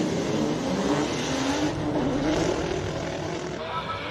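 Loud, rough engine roar from race cars, including a BMW M3, launching off the start line at a hill climb, a dense sustained rumble with rising pitch and no pauses.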